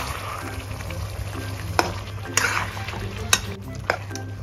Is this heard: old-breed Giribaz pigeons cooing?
no